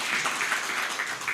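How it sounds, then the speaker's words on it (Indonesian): A public discussion audience applauds to welcome Pak Jumhur, a steady wash of many hands clapping at moderate volume throughout the short stretch, with no voices standing out. "Tepuk tangan dulu teman-teman."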